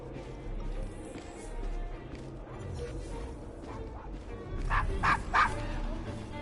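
Dog barking in the video game Assassin's Creed Syndicate, set in the Devil's Acre: a few short, mid-distance barks near the end, above a busy murmur of street ambience and faint voices.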